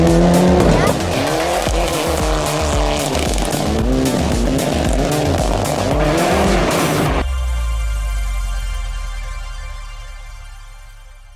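A car in Forza Horizon drifts through snow, engine revving hard with tyre squeal for several seconds before cutting to a quieter sustained tone; a voice talks over the game audio.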